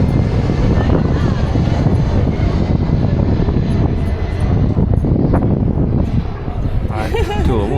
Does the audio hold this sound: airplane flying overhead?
yes